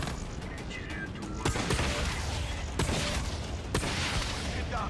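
Gunfire in Call of Duty Black Ops 3, a dense run of shots with three sharp louder cracks over a steady roar of game noise, fairly loud throughout.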